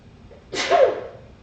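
A single sharp sneeze bursts out close by, loud and brief against a quiet kitchen background.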